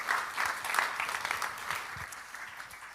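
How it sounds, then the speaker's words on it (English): An audience applauding Tom on stage at a KNVB event, a brief moderately loud burst of clapping that swells and then tapers over a few seconds. "Please give a warm applause to Tom."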